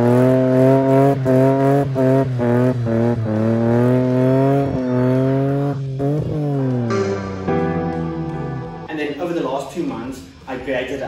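A Mercedes W203 fitted with a turbocharged M104 3.2-litre inline-six runs with a loud, close, tonal engine note that rises and falls in rhythmic revs before trailing off unevenly.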